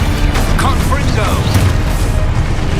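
In a wizard video game the Confringo explosion spell goes off as a loud, rumbling blast with crashing debris. Voices and game effects overlap it.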